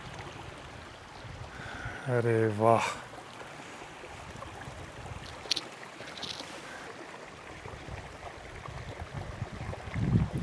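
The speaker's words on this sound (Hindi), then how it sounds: "इधर से भी पानी आ रहा है और इस तरफ से भी पानी आ रहा है" A mountain stream in the Swiss Alps at Siviez Nendaz rushes with a constant broadband wash of flowing water, while a person speaks briefly near the mic over it.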